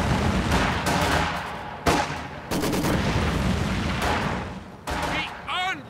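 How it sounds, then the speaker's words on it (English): Gunfire on a Company of Heroes 2 battlefield on the Moscow Lines, with bursts of rifle and machine-gun shots crackling in dense volleys and sharp cracks punctuating them, followed by a brief voiced battle cry near the end. "Let's fire on the enemy infantry!"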